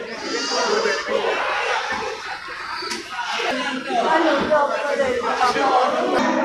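At the Geulumpang Payong goat market in Bireuen, large billy goats sold for sacrifice bleat in short, scattered calls amid crowd murmur and occasional slaps, with someone talking close by.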